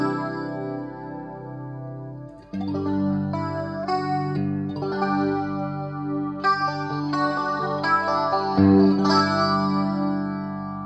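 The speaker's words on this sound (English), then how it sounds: "next pedal here is a B chorus. Okay, this has a double modulation function" Guitar run through a Lovepedal Bi Chorus double modulation pedal, a single ringing note followed by strummed chords and picked lines with a rich, warm, wavering chorus swirl, close and clear with no talking.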